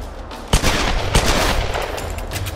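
Gunfire in the Tomb Raider Definitive Edition video game on hard difficulty: two sharp close shots with a dense rumbling burst of weapon noise continuing between and after them.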